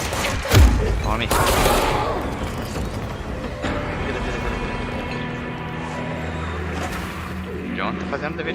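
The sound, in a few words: gunfire shooting in video game Control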